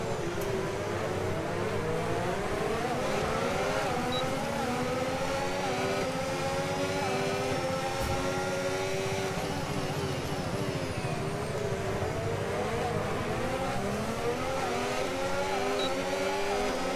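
Formula 1 cars racing wheel to wheel in F1 25, a loud continuous high-revving engine scream with repeated rising and falling pitch sweeps as gears shift, close and unbroken throughout.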